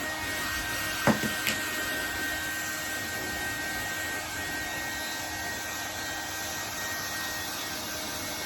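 Hair dryer blowing steadily while drying a person's hair treated with out-bath treatment milk, a constant close whooshing hum with a couple of brief clicks early on.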